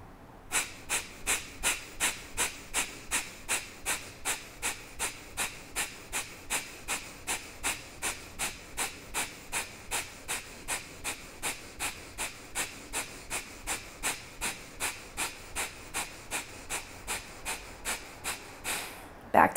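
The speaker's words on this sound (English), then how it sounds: "Easy breaths in between, ujjayi breath." Steady ujjayi breathing during a standing vinyasa yoga flow: about forty even, audible breaths with a soft oceanic rasp. They come in a regular rhythm, close to the microphone and without talking.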